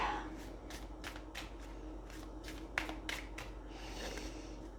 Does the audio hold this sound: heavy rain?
no